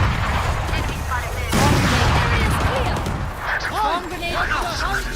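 Swarm grenade explosions in a video game: a loud, close boom hits partway through over a rumbling, crackling background, with a voice talking over it.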